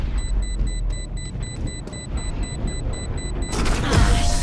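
Explosion in the video game Valorant, a broad booming burst near the end over steady game sound and high electronic tones.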